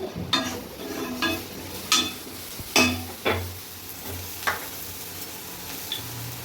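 Garlic goes into hot oil in a pan with a steady background sizzle, punctuated by a series of sharp, close scraping and tapping stirs spaced about half a second apart.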